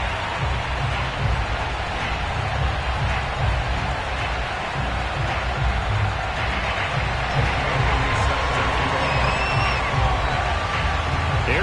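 Football stadium crowd at FedEx Field before an NFL game against the Dallas Cowboys, a loud, steady roar of many voices filling the space with scattered whoops and cheers rising throughout.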